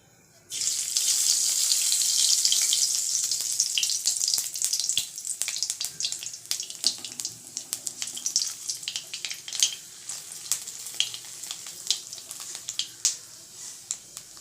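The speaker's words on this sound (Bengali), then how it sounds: "এবার কড়াইয়ে পরিষ্কার তেলের মধ্যে আমি কিছু কালো জিরা ফোড়ন দিয়ে নেব তেলটা আরেকটু গরম হলেই আমি দিয়ে দেব" Black cumin seeds drop into hot oil in a wok and burst into a loud, steady sizzle that slowly thins into scattered crackles and pops.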